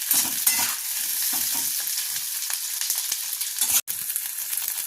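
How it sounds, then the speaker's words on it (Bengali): Capsicum frying in a pan for chilli fish makes a steady, close sizzle, broken by soft scraping stirs and a brief dropout near the end, with no talk. "এর মধ্যে এবার ক্যাপসিকামটা দিয়ে দিই। এবার এটাকে একটু হালকা আমি ভাজতে দেবো।"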